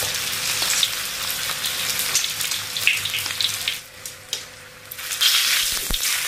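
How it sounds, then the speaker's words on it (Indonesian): Salted tilapia fish frying in hot oil sizzles and crackles steadily and up close, with a few brief dips and sharp pops as the pan is worked. "ikan asin mujair kita goreng"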